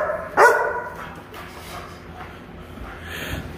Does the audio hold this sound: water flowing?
no